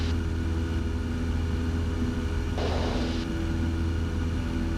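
A Cessna 172 SP Sierra light aircraft with a 180-horsepower engine at 2700 RPM climbs, its engine a steady, loud droning hum heard from the cabin, briefly overlaid by a short burst of hiss.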